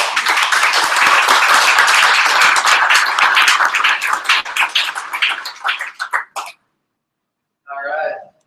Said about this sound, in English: Let's give a round of applause for Wiersma.